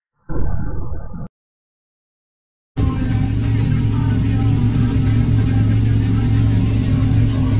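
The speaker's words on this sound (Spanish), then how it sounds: "Así que voy a sacar una moto." A motorbike engine starts up in the Roblox game Brookhaven after a brief sound and a pause, then settles into a loud, steady engine drone.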